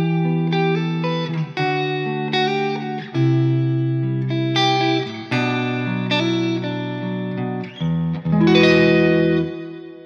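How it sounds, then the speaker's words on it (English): Plate reverb with a long decay washes over a sustained, layered musical passage of chords and melody, the notes blurring into a smooth, shimmering tail; loud and continuous with no talking. "Just beautiful, the plate reverb."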